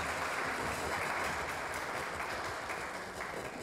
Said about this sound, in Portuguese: Uma salva de palmas aí para o Roberto Cidade